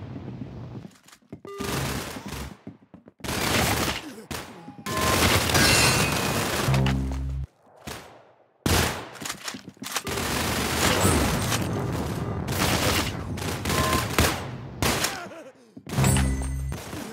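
Loud, rapid bursts of gunfire from the Roblox game Arsenal, with automatic rattles and booming shots that come in long volleys separated by brief silent gaps, and no voices.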